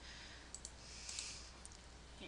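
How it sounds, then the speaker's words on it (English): A computer mouse gives a few faint, sharp right-clicks while working in CorelDRAW X6, small isolated ticks over a quiet room hiss. "then what I could do is right click on the object"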